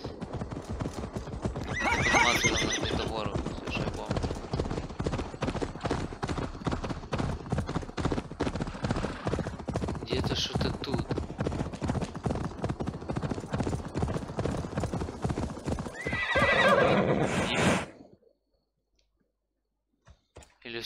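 A horse in Assassin's Creed Valhalla on PS4 trots with steady, close clip-clopping hooves, neighing loudly near the start and again near the end before the hoofbeats stop abruptly into near silence.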